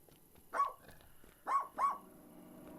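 A voices three barks in imitation of a dog: one sharp woof, then a quick pair close together, loud and near over a quiet room background.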